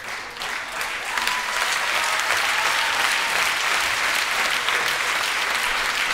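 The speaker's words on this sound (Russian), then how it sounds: "Давайте аплодируем." A comedy show audience in a hall applauds, a dense, loud wash of clapping that builds quickly and holds steady throughout.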